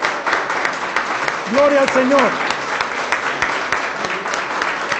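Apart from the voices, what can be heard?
congregation applauding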